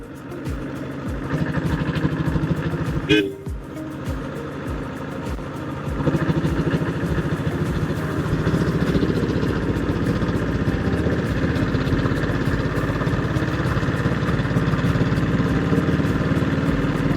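A 1976 Royal Enfield Bullet motorcycle with a diesel engine runs steadily nearby, its loud, even thumping continuing for about seventeen seconds, with one brief metallic clank early on.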